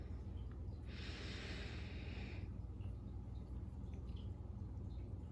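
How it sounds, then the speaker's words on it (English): A long, deep inhaled breath, close and soft, rising over a steady low background hum and then fading away, with no talking. "take a big, deep, cleansing, detoxifying, purifying breath together"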